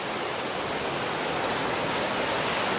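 A waterfall roars as a dense, continuous wash of falling water, loud and unbroken, with no voices or other sounds.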